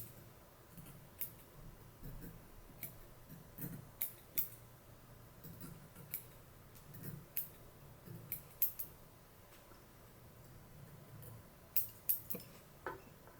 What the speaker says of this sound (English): I'm going to trim up our butt ends.